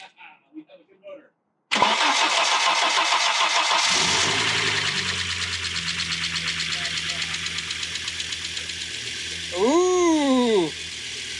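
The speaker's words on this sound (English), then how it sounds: "This exhaust sounds bloody brilliant." Audi S6 Avant engine cranking and firing up with a loud exhaust and an open intake, a sharp burst settling into a lumpy, pulsing idle, with a brief exclamation before the start and a whistle-like tone near the end.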